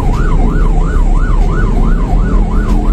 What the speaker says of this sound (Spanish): Ya pasó la ambulancia.